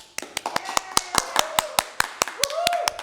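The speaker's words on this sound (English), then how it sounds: "Everyone give a clap" Audience claps in a steady rhythm of about fifteen crisp, close beats over three seconds at a Samoan performing arts event, with a faint voice and a tone sliding beneath.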